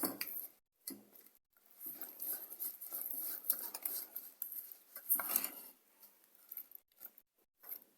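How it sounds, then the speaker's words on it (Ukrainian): Quick metallic tapping and scraping of a whisk against a bowl, mixing sugar, vanilla sugar and egg, in irregular bursts with brief pauses, close up and fairly quiet. "Все це будемо змішувати лінчиком"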